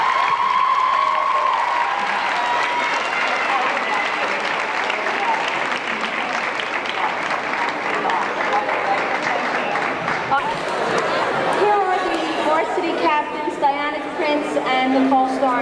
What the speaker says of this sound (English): give a round of applause for Lauren Durkin